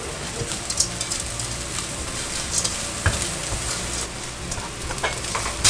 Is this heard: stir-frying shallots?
yes